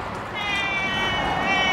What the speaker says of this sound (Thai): แมวข้างบ้าน